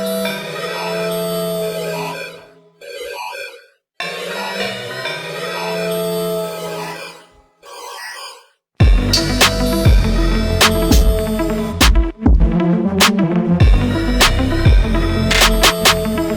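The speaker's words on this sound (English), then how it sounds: "I also made chords from the vocal." Sustained synth chords built from a vocal sample swell and cut off in a repeating pattern, then a dense, louder stretch of layered tones and sharp hits.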